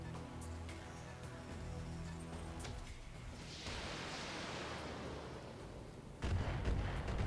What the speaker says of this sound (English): Missiles and an autocannon.